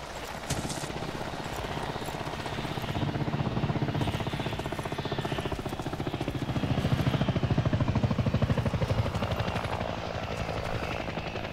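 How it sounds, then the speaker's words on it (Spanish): Civilian helicopter in the video game Arma 3, a steady close rotor chop with dense rhythmic blade thumping and a high engine whine, sustained and loud throughout with no talk. "Helicóptero, pero civil."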